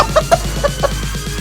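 Mother hen in a cartoon story giving five short, close clucks in an uneven rhythm over a low background hum, with no talking.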